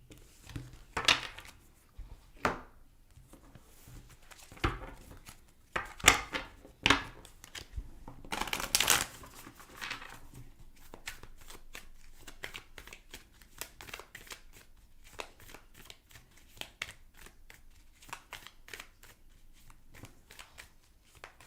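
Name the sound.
tarot cards being shuffled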